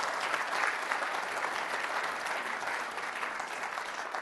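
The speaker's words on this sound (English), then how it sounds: "Joe Bast in particular and Fred Singer must be given, I think, a huge round of applause for the devotion that they have shown" A conference audience gives a round of applause, dense steady clapping filling the whole stretch at close range and tapering slightly toward the end, with no voices above it.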